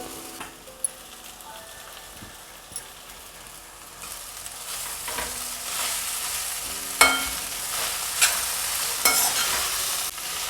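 Soaked poha tipped into a pan of fried onion and chilli, then stirred: a steady sizzle with scraping stir strokes and a few sharper clinks, growing busier and louder midway, with no talking.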